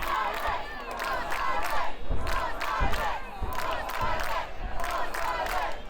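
An indoor pro wrestling crowd cheers and chants in loud, rhythmic bursts, a steady roar of many voices rising and falling in regular waves throughout.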